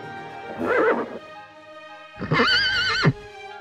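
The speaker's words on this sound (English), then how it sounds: "Horse." A horse neighs twice up close, a short whinny followed after a pause by a louder, longer, quavering neigh that ends sharply.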